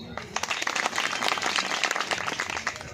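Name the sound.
audience applause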